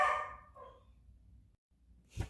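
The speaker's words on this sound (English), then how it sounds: "takes care of the dogs, they bark crazily" Dogs barking inside a home as someone arrives: a loud burst at the start, a quieter bark soon after, then a short silence and one more sudden bark near the end.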